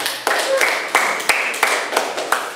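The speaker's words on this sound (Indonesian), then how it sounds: "Iya, terima kasih, tepuk tangan." Classroom applause: a short burst of hand clapping with sharp, regular claps about every third of a second, close and fairly loud, with no voices over it.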